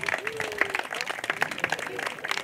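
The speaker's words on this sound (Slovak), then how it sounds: "veľký potlesk" Applause from an audience at an award ceremony for a Slovak sports and fitness event, steady dense clapping lasting throughout, fairly close and lively.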